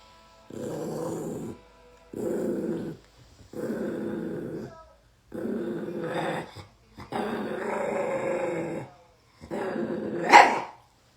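A dog growls and barks in repeated bursts while its coat is being trimmed at home, each grumbling outburst separated by short pauses, ending in a sharper, louder yelp; fairly close and heard alone.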